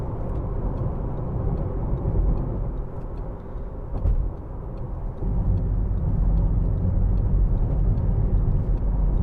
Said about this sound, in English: I think we'll go past here, just show the Audi's turn of speed